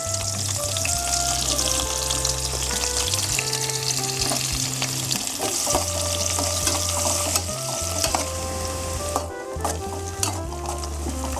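Sliced onions fry in white oil in a wok for biryani, giving a loud, steady sizzle with repeated scraping and stirring sounds over it and no talking.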